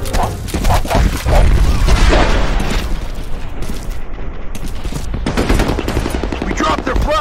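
Gunfire and explosions from the game F.E.A.R. Combat: dense, loud bursts of rapid shots with a heavy booming blast, continuous and chaotic from start to finish.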